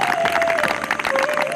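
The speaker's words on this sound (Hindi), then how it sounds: "एक बार जोरदार ताली बजा सकते हैं।" A group at an International Yoga Day class applauds steadily, giving a dense wash of clapping with a faint crowd murmur and a steady tone underneath.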